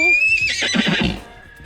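A horse in a pasture lets out a loud, close whinny that trembles and then drops away into soft low snorting at the end.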